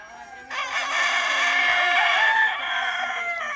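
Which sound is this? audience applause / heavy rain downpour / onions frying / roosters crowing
roosters crowing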